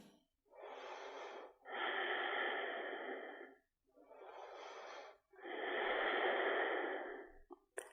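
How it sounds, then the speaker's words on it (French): Slow, deep breathing during a yoga practice: four long airy breaths, close and quiet, each separated by a short pause of silence. "Écoutez votre respiration."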